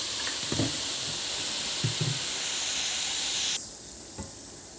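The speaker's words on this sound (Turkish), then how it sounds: "Şöyle de sirkemi döküyorum." Vinegar poured into a deep pot for cleaning an oil dispenser, giving a steady loud fizzing hiss with a few soft knocks, which drops off sharply near the end.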